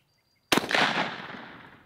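A single close gunshot fired at a target while sighting in a reflex sight, a sharp loud crack after half a second of silence, followed by a long fading echo.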